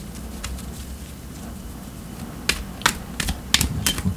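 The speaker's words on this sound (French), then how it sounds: "Je continue à brasser les cartes et on va commencer." Tarot cards being shuffled: a quiet, steady background hum at first, then a run of crisp, close card riffles and taps in quick irregular clusters toward the end.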